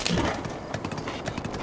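Horse hooves clip-clopping in Breath of the Wild near the Gerudo Desert, a brief steady run of close, moderately loud hoofbeats.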